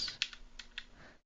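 A computer keyboard is typed on in a few quiet, scattered key clicks at an irregular pace, faint and close with no talking.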